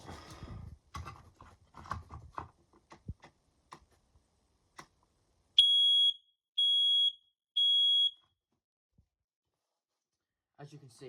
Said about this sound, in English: It's a good little smoke detector, these.